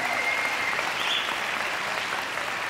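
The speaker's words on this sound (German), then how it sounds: "Dankeschön, das ist dein Applaus." A conference audience applauds steadily, dense clapping filling the hall at an even level throughout.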